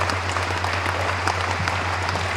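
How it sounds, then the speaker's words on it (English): Applause fills the room at a lease signing ceremony as the crowd claps for elected officials, a dense steady patter over a low electrical hum. "give your elected officials a good round of applause"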